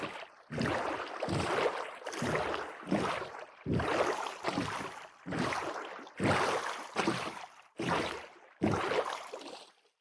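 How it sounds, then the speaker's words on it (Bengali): Minecraft boat rowing across water, rhythmic bursts of splashing paddle strokes separated by short pauses, close and moderately loud with no speech. "আমার নৌকা ড্রিফট মারে জানো?"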